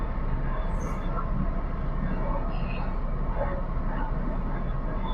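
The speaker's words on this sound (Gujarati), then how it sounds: "જોવો આ રેલવે જાય છે, રેલવે આવી ગઈ," A train rumbles past a railway level crossing with the gate closed, a steady, fairly loud rolling roar that holds for the whole stretch without a break.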